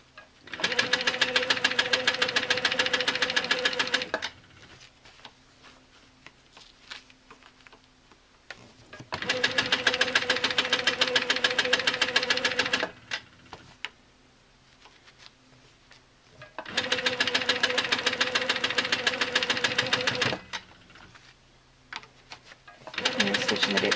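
A sewing machine stitches in the ditch on a quilt. It runs in three long, loud bursts of steady rapid stitching, separated by quiet pauses with small handling noises.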